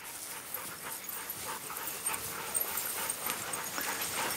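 Dog panting with faint whimpers during a pack-training session, a steady breathy rhythm at close range with no talk over it.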